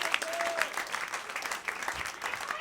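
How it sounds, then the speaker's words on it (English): An audience applauds with a steady, moderately loud patter of clapping, with brief whistles and a few voices mixed into the crowd noise. "Give yourselves a round of applause"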